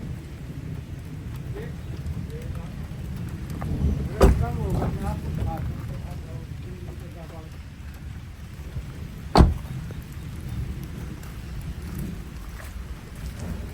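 Steady rain falls outdoors where a 2017 Maruti S-Cross Zeta is parked, a constant soft hiss with two sharp brief knocks partway through and faint voices in the background.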